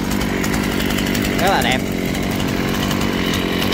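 Shindaiwa 355 and Ryobi ES-336 chainsaws run at a steady, loud buzz throughout, with someone talking over the engine noise.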